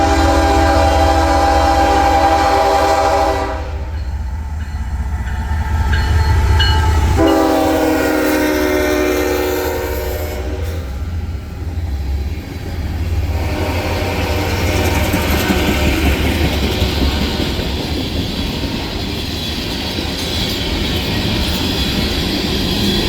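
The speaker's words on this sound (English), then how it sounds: "I would catch CSX B622, a run-through ethanol train heading back to CPKC in Bensenville, Illinois from Tampa, Florida, with" CSX B622, a run-through ethanol freight train led by CP8871 through Athens, rolls past loud and close with a sustained horn blast, then heavy wheel rumble and squealing from the passing cars.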